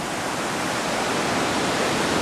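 A river rushes below a long suspension bridge at the low point of the Everest trek in Nepal, around 1,500 meters: a steady, dense roar of flowing water, loud and unbroken, with no voices.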